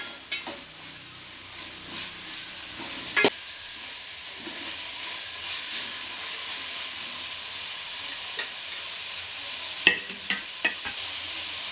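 Vegetables for restaurant-style fried rice stir-fry in a hot pan with a little salt, giving a constant hissing sizzle broken by occasional sharp scrapes and clinks of the spatula.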